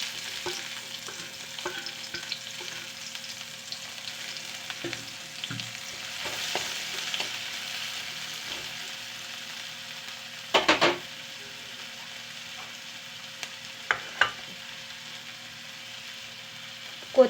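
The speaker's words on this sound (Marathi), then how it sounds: "त्याच तेलामध्ये थोडा कांदा बारीक चिरून ठेवलेला टाकूया" Finely chopped onion frying in oil in a pan while cooking chicken gravy: a soft continuous sizzle with occasional stirring scrapes and a few sharp metallic clinks, close and without speech.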